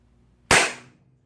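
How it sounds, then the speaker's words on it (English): A Pedersoli derringer fired once with a shotgun primer and no moderator, a single sharp loud crack that follows near silence and decays quickly. "There's the second shot."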